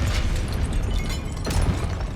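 A Confringo blasting spell explodes during combat in the Hogwarts Legacy video game: a loud, dense booming burst that fills the whole stretch, with a second sharp blast partway through.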